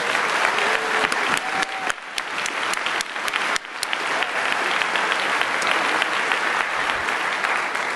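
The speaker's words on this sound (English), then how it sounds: "And so I'd like to get a round of applause for them." Sustained applause from a large crowd at a hacker convention's closing ceremony, loud and dense throughout with a few sharper individual claps and whistles standing out.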